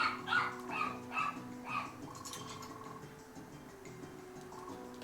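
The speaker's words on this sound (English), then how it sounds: "Dog's going crazy." A dog barks repeatedly in the video game Chasm, a string of sharp close barks in quick rhythm that fades out, leaving a steady tonal game hum underneath.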